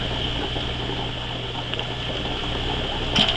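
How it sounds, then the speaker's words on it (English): Continuous churning bubble and gurgle of air pushed through a tube into the bottom of a bucket of water, steady and close, with a faint hum beneath and a brief splashy burst near the end. "through a multi-purpose tube into the bottom of the bucket and thereby bubbling inside the bucket"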